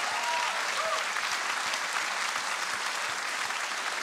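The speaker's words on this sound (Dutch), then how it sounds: "Mag er één keer een geweldig applaus?" Sustained applause from a theatre audience at a Dutch cabaret and song evening, a dense, even wash of many hands clapping at steady loudness throughout, with no voices on top.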